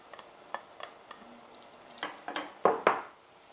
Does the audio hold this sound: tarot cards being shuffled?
no